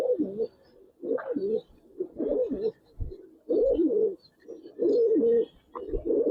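Racer pigeons coo in a loft, several close birds giving repeated throaty rolling coos in bursts with short pauses between, no talking.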